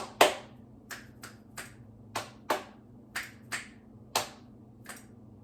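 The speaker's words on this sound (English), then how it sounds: "Checking in with the clap snaps" A series of sharp finger snaps, about eleven in uneven rhythm across a few seconds, close and crisp over a quiet background during a full-body stretching workout.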